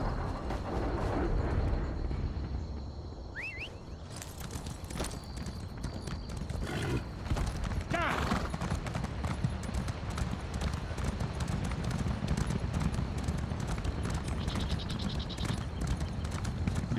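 A horse clip-clops at a steady gait while ridden in Elder Scrolls Online, the hoofbeats running continuously under game ambience with a brief whinny and some speech.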